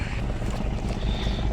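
A boat's engine rumbles steadily on busy water with many boats about, a low continuous drone mixed with wind buffeting the microphone.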